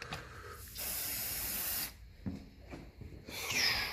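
Aerosol spray hisses onto the intake and exhaust manifolds of a 1954 Ferguson TE20 diesel tractor in steady, close bursts of about a second each. Short pauses separate the bursts, and there is no talking.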